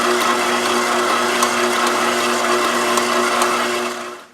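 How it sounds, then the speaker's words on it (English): A stand mixer kneads buttery sourdough brioche dough with a steady, loud motor whir and faint rhythmic knocks, then winds down and stops at the very end. "Just going to knead it for another 2 or 3 minutes before I take it out of the mixer."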